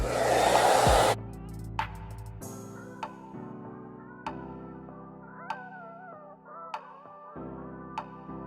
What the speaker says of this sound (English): I'm gonna take my blow dryer on the heat setting and I'm gonna go ahead and blow dry that.